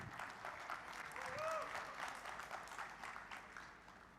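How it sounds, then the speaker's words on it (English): Audience in a large conference plenary hall applauds, steady distant clapping across a big room with a faint voice passing over it, soft throughout. "Claps, please."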